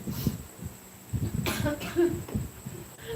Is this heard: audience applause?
no